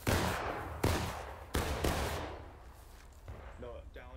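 Musket volleys ring out in War of Rights, a Civil War era game: several loud, sharp reports with ragged rolling echoes, coming about every 0.7 seconds, before they fade into distant crackle while a voice briefly speaks near the end.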